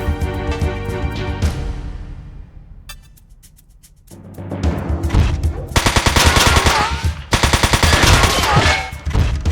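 Gunfire from mech weapons in the video game Front Mission 4: a sparse shot early on, then after a brief lull loud, rapid repeated bursts fill the rest of the moment, close and dense, with no voices.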